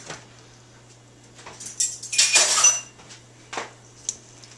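Vegetable oil is stirred into pumpkin bread batter in a mixing bowl, with quiet scraping and a few bright clinks of utensil against the bowl, one louder burst of clattering in the middle, over a faint steady hum.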